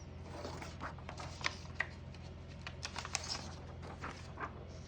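Small mechanical clicks and light taps from the paper guide and platen of a 1917 Underwood No.5 antique desktop typewriter being adjusted, scattered irregularly over a steady low background hum, close and quiet.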